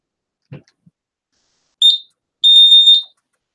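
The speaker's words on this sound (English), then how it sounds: "so then we'll do a smoke detector." A smoke detector sounds on a fire alarm panel during bench testing: after a faint click, one short high electronic beep, a pause, then a longer steady beep, loud and close with no talk.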